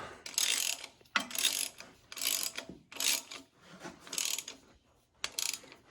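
Bolts are tightened on a John Deere B tractor, most likely with a ratchet wrench, in five or six rhythmic bursts of ratcheting clicks separated by short pauses, close and fairly loud, with no talking.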